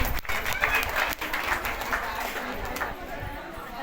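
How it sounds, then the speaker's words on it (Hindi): A church congregation claps loudly and steadily at a service, a dense wash of applause that continues throughout and eases slightly toward the end. "इसलिए आप लोग तेज ताली के साथ परमेश्वर को धन्यवाद दीजिए"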